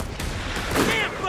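A rifle shot in Company of Heroes 3 bursts out amid dense battlefield noise, a short loud crack layered over continuous gunfire and rumble.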